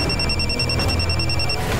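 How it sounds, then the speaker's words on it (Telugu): A phone rings with an incoming call indoors, a steady repeating electronic ring tone running continuously over low room noise. "ఆమీన్, నేను నీకు ఫోన్ చేస్తుంటే ఎందుకు కట్ చేస్తున్నారు?"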